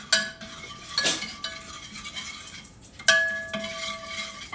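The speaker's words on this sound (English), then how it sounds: "And I want to stir it before I start the oven" A spoon stirs water and strawberry jam in a metal pot on the stove, with a few clear clinks against the rim and soft scraping strokes between them, close and without talk.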